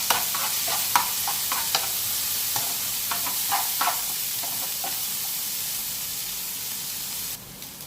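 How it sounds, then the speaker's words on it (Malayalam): Onions frying in a pan for a sardine dish, a steady sizzle underneath a run of sharp stirring clicks and scrapes from a spoon that stop partway, leaving the hiss alone. "നമുക്ക് ഉള്ളി ഇട്ടെടുക്കാം. ഇളക്കി കൊടുക്കണ്ട് ഇങ്ങനെ."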